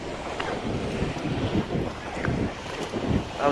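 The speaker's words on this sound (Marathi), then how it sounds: "वारा आहे" Wind at the seashore at Harihareshwar in rainy weather rushes and rumbles against the microphone in uneven gusts, with sea waves washing in the background.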